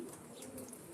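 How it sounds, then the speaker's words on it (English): Young racing pigeons coo softly outdoors, a faint low murmur that runs through a quiet one-second moment with no talk. "Young birds are still chilling out there."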